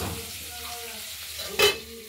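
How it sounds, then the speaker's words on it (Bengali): Pieces of katla fish fry in hot oil in a pan, a steady close sizzle with a brief scrape of stirring near the end. "মাছগুলোকে ভেজে নিচ্ছি"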